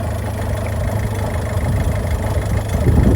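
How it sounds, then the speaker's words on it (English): A Land Rover Freelander TD4 Auto Kalahari diesel idles close up with a steady, loud low rumble and an uneven, lumpy beat from a misfire, running alone without talk. "There is a bit of a misfire going on."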